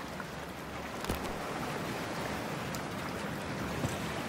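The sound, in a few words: going into cold water in Cyberpunk 2077 video game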